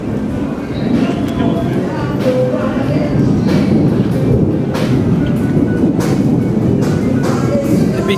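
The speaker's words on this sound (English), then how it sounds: "there's a train coming." A train passing on the tracks in New Orleans near Decatur Street, a steady rumble with rolling rail noise throughout, heard from nearby with faint voices in the background.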